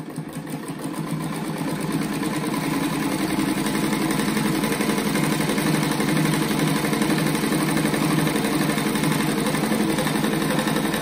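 A sewing machine stitches a fabric strip for a rug, a steady rapid mechanical chatter and hum running loud and close throughout without a pause.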